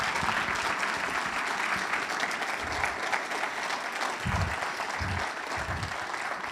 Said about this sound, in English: let's just give a great round of applause for Clive and Evan